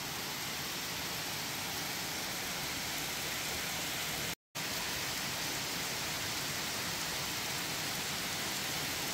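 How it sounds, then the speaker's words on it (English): A heavy rain downpour hisses steadily and densely at high loudness, broken only by a momentary gap of silence midway. "It is absolutely downpouring."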